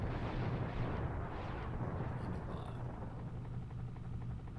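A barracks destroyed in a Desert Strike video game cutscene, a steady low rumbling roar of explosion and fire that fades slowly over several seconds.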